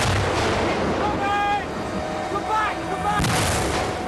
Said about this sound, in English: In the confusion, they still carry on forward towards the mortar fire.